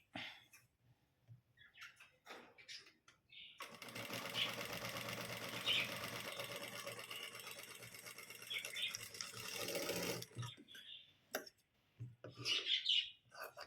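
A sewing machine stitches a front neck on fabric: a continuous, whirring run of about six seconds, with handling noise before and after and birds chirping faintly in the background.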